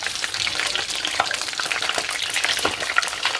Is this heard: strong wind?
no